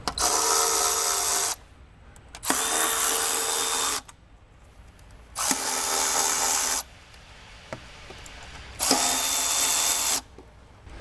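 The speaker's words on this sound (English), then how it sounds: "we'll take that 8mm socket and get all of those lower intake bolts started, and then we'll tighten them down." An 8mm socket ratchet tightens the lower intake bolts on a Jeep Cherokee 3.2/3.6 Pentastar engine. Four close bursts of rapid pawl clicking, each about one and a half seconds long, are separated by short quiet gaps with faint handling noises.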